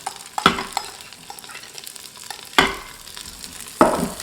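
Onions sauté in a pressure cooker pot for beef and broccoli, a soft background sizzle with three distinct loud scrapes of a utensil stirring at uneven intervals.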